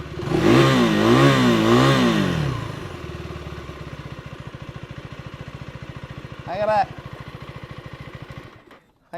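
A 2024 KTM Duke 390 Gen 3 motorcycle revs its exhaust loudly and close up in a couple of rising blips, then settles into a steady, throbbing idle broken by one more short rev.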